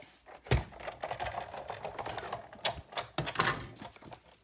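A Big Shot die-cutting machine cuts paper circles with quiet mechanical rattling and cranking, including a sharp clack near the start and a busier grinding burst toward the end.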